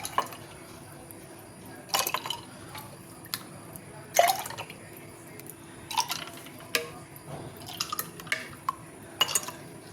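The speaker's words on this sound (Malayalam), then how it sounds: "ഇത് കുറച്ച് ഗ്ലാസ്സിലേക്ക് ഒഴിച്ചിട്ട് സോഡയും കൂടി ഒഴിക്കാം." Pineapple juice and cold soda go into a glass with soft dribbles and drips, broken by light glass clinks and small kitchen knocks at irregular moments.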